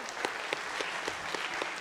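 Convention crowd applause at GalaCon, a steady, fairly distant roar of many hands with a few sharper claps popping out at intervals, continuous and even throughout.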